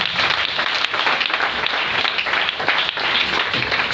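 A church congregation applauds and cheers during a worship service, a dense, steady wash of clapping that fills the whole stretch without letup.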